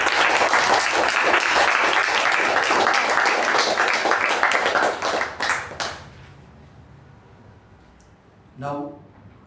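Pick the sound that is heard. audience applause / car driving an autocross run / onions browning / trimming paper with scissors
audience applause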